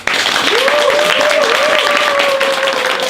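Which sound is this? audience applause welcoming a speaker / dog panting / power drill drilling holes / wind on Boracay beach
audience applause welcoming a speaker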